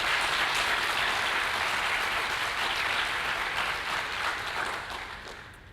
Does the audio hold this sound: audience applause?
yes